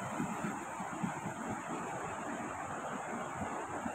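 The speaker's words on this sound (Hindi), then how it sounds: "पानी की आवाज़ आपको आ रही होगी, बड़ा फास्टली पानी जा रही है" A fast-flowing mountain river in Kumrat Valley rushes in a dense, steady roar of churning water, loud and close, with no voices over it.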